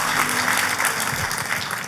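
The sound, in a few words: church congregation applauding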